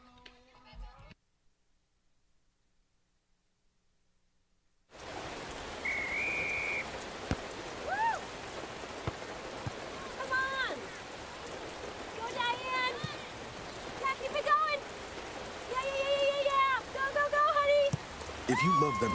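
Steady rain falls at an outdoor college softball game, a constant hiss of drops that begins suddenly after near silence, with whistles and faint voices rising over it.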